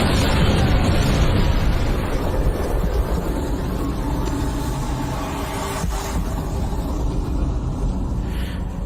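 Bomb explosion sound effect, a sustained heavy roaring blast with deep rumble filling the whole stretch, loud and close, fading slightly toward the end.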